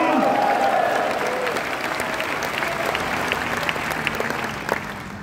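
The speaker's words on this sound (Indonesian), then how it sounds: "Give God a mighty shout." A church congregation at a revival service bursts into sustained applause mixed with cheering and shouting, loud and dense, tapering slightly over a few seconds.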